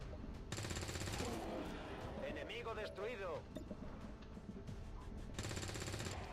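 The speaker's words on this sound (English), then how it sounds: "we're gonna take the shot with this guy, who will then happily reload and then start taking some pot shots with Becky" Soldiers' gunfire in the turn-based strategy game XCOM 2, heard as game combat sounds with bursts of shots and rattling under a steady mix of game audio and faint chatter.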